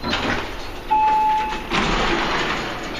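An Otis-era elevator door slides in a Pittsburgh hotel, formerly a Hilton, on the ballroom level. It gives a loud, close rumbling slide with a brief tonal hum partway through, then a second surge of motion.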